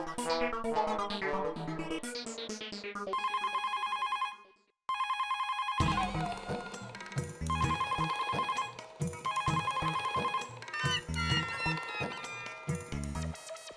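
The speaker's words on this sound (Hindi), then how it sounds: "ये दया फोन क्यों नहीं उठा रही है?" A telephone rings in repeated bursts over a backdrop of lively music, the ringing loud and close with short pauses between rings.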